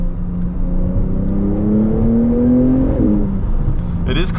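A Porsche 911 992 Turbo S pulls hard in third gear on a cold day, engine and turbo whine climbing steadily for about three seconds before easing off, loud and close, with a brief voice under the drone.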